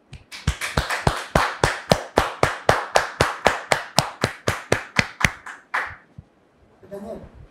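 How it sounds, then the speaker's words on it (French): A studio audience on a French television talk show applauds in strong, rhythmic unison claps, loud and close for about six seconds before stopping, followed by a brief murmur of voices. "le père de notre sœur, Daniel, sous vos applaudissements."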